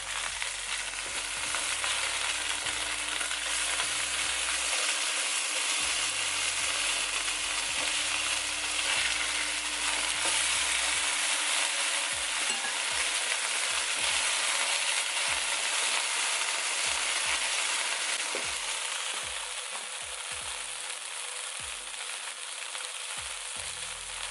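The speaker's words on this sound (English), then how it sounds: "you keep an eye on your fritters, right? So when you see it starts browning up, you turn it around." Mussel fritters frying in a pan, a steady loud sizzle of hot oil throughout with small crackles and a few spatula taps and stirring knocks near the end, no voices.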